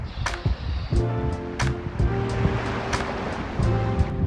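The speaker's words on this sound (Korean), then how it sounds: "오랜만에 바다 소리 들어보시죠" Waves wash steadily along the sea at Namhae on a cold day, a continuous surf roar with periodic swells and wind buffeting the microphone, with no voices.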